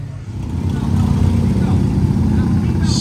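An off-road car driven through the Glamis sand dunes rumbles steadily with a low, continuous engine drone, fairly close, while people talk over it.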